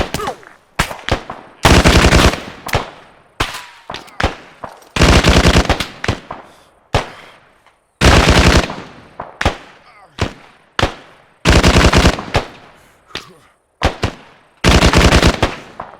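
Machine gun fire in ArmA 3, loud close bursts of rapid automatic shots alternating with single cracks and brief pauses, each burst trailing off in echo across open terrain.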